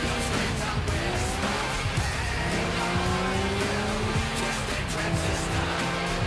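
Car driving in Grand Theft Auto IV, a steady engine drone with rising and falling gear tones and tire squeals, continuous and loud for several seconds, no speech.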